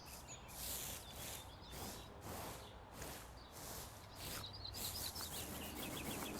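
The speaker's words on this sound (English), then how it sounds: "Everything's got a sound that's like a really beautiful sound. Like there's birds." Birds chirping in the cosy video game Hozy: soft, repeated high tweets and trills over a gentle, faintly rustling ambient background, quiet and continuous with no talk.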